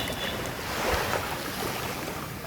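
Sea waves wash onto an island beach in a steady, broadband rush with wind buffeting the microphone, a continuous outdoor surf roar without voices.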